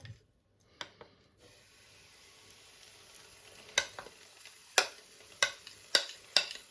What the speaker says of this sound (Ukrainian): І все виливаю тісто на сковорідку.